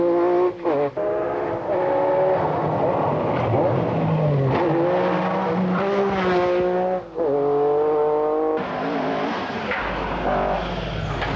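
An Opel Manta rally car races flat out on a tarmac stage, its engine loud and close with rising and falling revs through rapid gear changes, joined by occasional tire noise and no talk.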